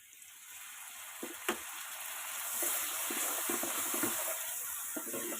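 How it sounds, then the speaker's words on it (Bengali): Onion paste frying in a wok gives a soft, close hiss and sizzle, with a sharp spatula knock near the start and then scattered stirring scrapes, quiet and steady without speech. "পেঁয়াজ বাটাটা একটু সামান্য কড়াইয়ে নাড়াচাড়া করে ভেজে নেব।"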